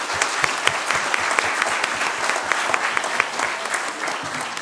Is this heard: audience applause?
yes